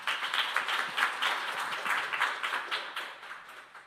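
An audience at a youth speech contest applauds to welcome a speaker, a moderately quiet, steady patter of many hands clapping throughout.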